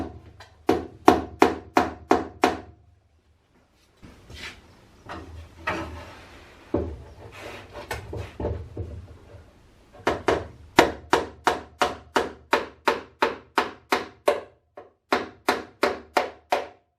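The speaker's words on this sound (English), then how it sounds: "nailed in place using the small sledgehammer as dolly" Nails being hammered into wooden garboard planks on a boat, with a small sledgehammer held as a dolly: bursts of sharp, evenly spaced blows in quick series, close and clear, separated by pauses and some lighter handling knocks.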